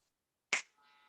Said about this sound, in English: All I want you to do is snap your fingers.